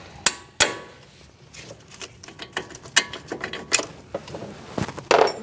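Hammer tapping out the front strut bolts on a 2016–2019 Chevrolet Cruze, a series of sharp metallic strikes at an irregular pace, some hard and ringing, others lighter clinks, close and clear with no talking.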